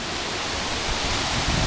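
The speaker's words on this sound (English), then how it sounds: "Like all these little mini waterfalls and the sound." Small cascading waterfalls at Anna Ruby Falls make a dense, steady broadband rush of falling water, loud and close, with no break or talk over it.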